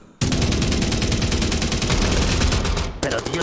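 Rapid automatic gunfire in the video game Zero Hour, a loud sustained burst of shots that cuts off briefly near the end before resuming.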